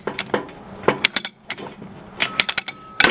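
A CM chain hoist with 3/8 inch chain runs in an irregular series of close metallic clicks and ratcheting clanks, rattling loudly.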